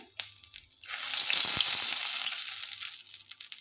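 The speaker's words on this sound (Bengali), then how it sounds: "এখানে কড়ার মধ্যে তেজপাতা শুকনো লঙ্কা দিয়ে দিলাম" Bay leaves and dried red chillies hit hot oil in a kadai with a sudden loud sizzle that swells, holds steady and slowly settles, with a few light crackles and no voices.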